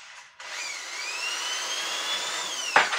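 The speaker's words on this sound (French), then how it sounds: "tenir la perceuse" An electric drill runs steadily at a high whine while a shock absorber part from a 1993 Honda CR 125R motorcycle is cleaned, starting after a brief pause and ending with a short scrape.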